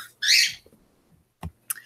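Pet birds kept in a cage call nearby: one bright, high whistling cry, then after a pause a short low chirp and a final sharp tweet, with quiet gaps between them.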